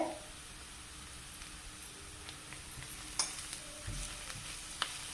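Onions for chutney sauté in a pan with a soft, continuous sizzle and hiss, broken by a few faint stirring taps and scrapes.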